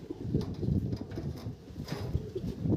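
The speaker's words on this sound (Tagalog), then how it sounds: "Ibon ni Teacher Ading. 9:52 dumating yan." Soft, low racing pigeon cooing repeats in gentle rhythmic pulses, quiet and close, with faint background noise.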